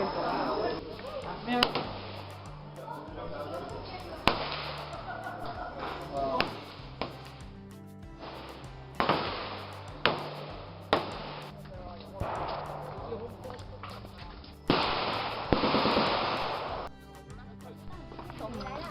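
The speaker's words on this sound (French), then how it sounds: "on entendait au loin justement des tirs" Gunfire at the Cu Chi tunnels in Vietnam comes as a series of sharp, irregular bangs spaced a second or two apart, with people talking in between.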